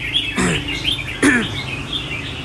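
Bird calls from a caged chim giàn songbird, two short chirping phrases standing out over a steady background of other faint bird sounds.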